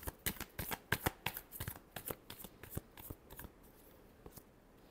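Tarot cards being shuffled up close, a quick series of crisp riffling flutters and taps that grow sparser and fade out near the end, quiet and without talk.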